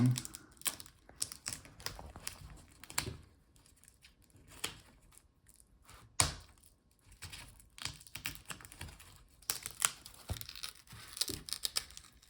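Adhesive-held front bezel being pried off a Samsung Galaxy NP754XFG laptop gives scattered crisp clicks, snaps and peeling crackles in irregular bursts, fairly quiet and close, with a louder snap midway.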